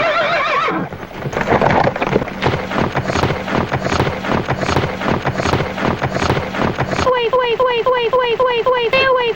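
A horse whinnies loudly up close while hooves clip-clop in a steady rhythmic stream, with a second whinny near the end and rushing wind in the background.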